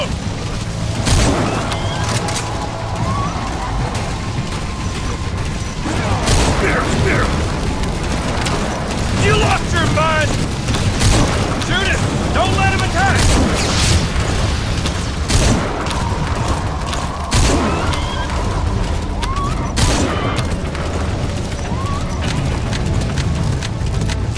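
Gunfire in Metal Gear Solid V: The Phantom Pain comes as repeated sharp shots and booms over a constant rumbling game soundscape, with voices talking in between.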